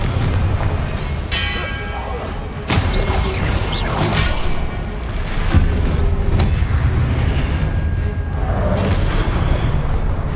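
Spell blasts from a Hogwarts Legacy duel, with repeated loud booming impacts and crashes over a dense, busy game soundscape, sharp hits standing out around the middle of the stretch.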